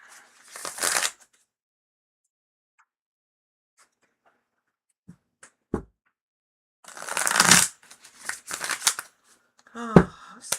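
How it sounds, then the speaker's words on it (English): Tarot card deck being shuffled by hand in short, close riffling bursts separated by quiet pauses, a couple of soft taps between them, and a voice speaking briefly near the end. "such a lovely deck to shuffle"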